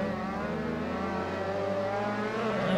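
An RSR F3 open-wheel race car sliding through a corner in Assetto Corsa, its engine holding a steady, high-revving whine for a few seconds, loud and close, with no talking.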